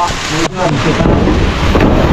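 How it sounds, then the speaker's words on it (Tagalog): Heavy rain pours steadily onto the roof of a house under construction, a dense loud continuous roar with a brief dip partway through. "Pumapatak na naman yung ulan."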